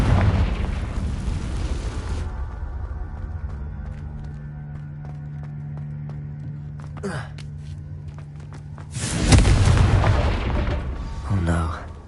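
In Hogwarts Legacy, the Confringo spell goes off as a loud burst and explosive boom after a stretch of low humming, followed by a shorter second thump.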